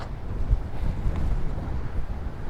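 Strong gusty wind buffets the microphone during a DJI Mavic Mini drone flight, making a low, rumbling roar that swells and fades in uneven gusts, close and fairly loud, with no talking.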